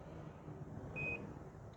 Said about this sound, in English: every time you push any button, it will beep